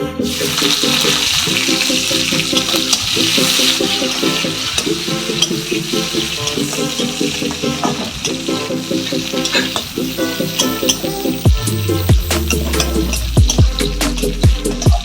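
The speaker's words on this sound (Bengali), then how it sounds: "পেঁয়াজটাকে একটু ভাজা ভাজা হতে দেবো" Onions frying in a pan, a loud continuous sizzle under a repeating musical pattern, with clattering stirs and sharper scrapes toward the end.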